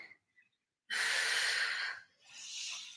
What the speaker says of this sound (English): You guys have to hear all my grunting and heavy breathing.